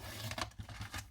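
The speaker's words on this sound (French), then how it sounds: "Donc, je prends mon massicot. Et je coupe." A paper trimmer slicing through paper, a few short rasping strokes close by, quiet and without any voices.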